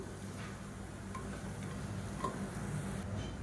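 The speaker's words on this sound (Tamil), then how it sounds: "பெருங்காயம் நல்லா பொரிஞ்சிருச்சு, இதை எடுத்துடலாம்." A lump of asafoetida fries in hot oil in a kadai, giving a soft, steady sizzle with tiny scattered crackles, heard close but quiet and continuous. No one speaks.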